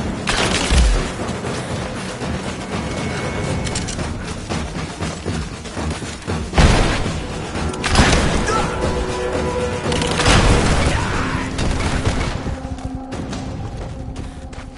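Gunfire in a Rise of the Tomb Raider battle, with loud booming shots and bursts landing irregularly over a dense, continuous din of combat noise and impacts, heavy blasts standing out every few seconds.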